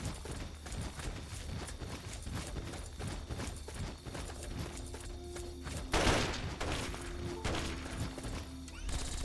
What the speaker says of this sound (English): Who's shooting what?